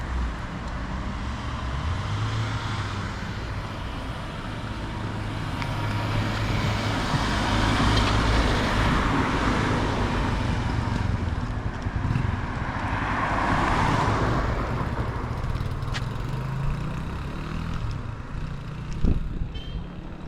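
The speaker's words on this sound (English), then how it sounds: "The vehicle passing, one coming up, one coming down" Traffic passes on a road beside PM Hospital, a continuous roar of cars and heavier vehicles that swells and eases as they go by in both directions, with no talk.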